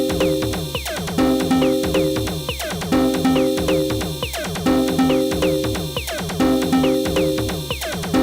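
A music track from the game Nosferatu: The Wrath of Malachi, a dense, harsh looping track with clattering repeated hits and dissonant tones cycling steadily every couple of seconds, loud and continuous with no speech.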